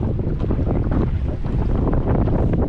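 Small fishing boat creeping across a bay on its outboard motor at minimum throttle, a continuous low drone under heavy wind noise and splashing water.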